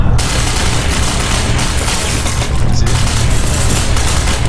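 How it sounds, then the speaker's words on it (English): Dense, continuous gunfire and booming shots fill a squad battle in the shooter game Tom Clancy's Ghost Recon Phantoms, loud and unbroken throughout with no voices over it. "Look at you, Smith, that sniper shot though"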